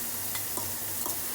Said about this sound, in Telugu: స్టఫ్ వచ్చేసి మంచిగా ఫ్రై అవుతుంది అన్నమాట.